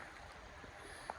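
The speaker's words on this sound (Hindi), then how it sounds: "पानी की आवाज़, झरनों का बहना" Soft, steady rush of flowing waterfall water outdoors, a continuous broadband hiss with no clear breaks, faint and somewhat distant, heard alone with a brief small knock near the end.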